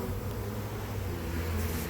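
A swarm of bees flies over a front-yard driveway, a steady low insect hum sitting under continuous outdoor noise throughout, with no talk.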